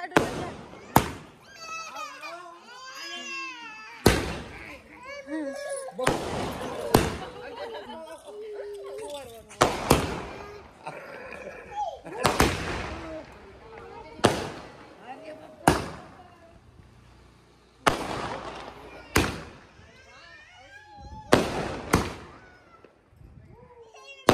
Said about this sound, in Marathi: आता रस्सी लावता. रस्सी बॉम्ब.